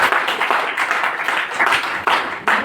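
Audience at a memorial day gathering of a Gurudev Seva Mandal in Urjanagar, Chandrapur, clapping in a steady burst of applause that stays lively throughout.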